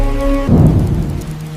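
Rain falls steadily as a deep rumble of thunder rolls in, loud and close, after a short sustained tonal hum cuts off. No one speaks.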